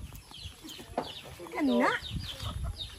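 Farm chickens give a brief, close cluck amid low rustling, while a person speaks briefly nearby.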